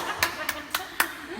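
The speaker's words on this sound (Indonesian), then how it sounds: "Tepuk tangan lagi yang kencang." An audience claps in four sharp, evenly spaced bursts, loud and near, briefly.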